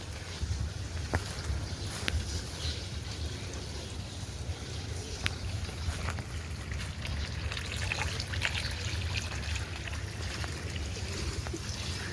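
A buffalo drinks water at a village farm in the morning, with a steady wet slurping and trickling that runs continuously over a low rumble of background noise.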